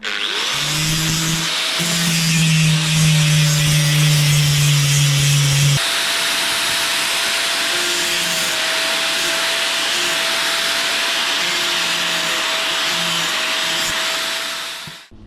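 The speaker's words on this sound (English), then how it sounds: "A little bit of grinding, and it'd be straight, I hope." A metal part for a BMW adventure bike project is ground with a power grinder, a loud continuous whine with a rough rasp that shifts pitch about midway, then cuts off at the end.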